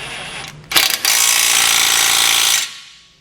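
A power ratchet runs in a loud, sustained buzzing whir while reinstalling a long bolt with a rubber bushing on the tow hook mount of a 2019 Ram 1500, preceded by brief mechanical clicks and ending abruptly.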